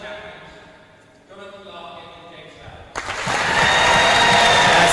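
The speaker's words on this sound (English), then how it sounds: "That's a good roar." A crowd at a rackets doubles championship match at The Queens Club bursts into loud roaring and applause that swells and holds steady, following a quieter stretch of murmur.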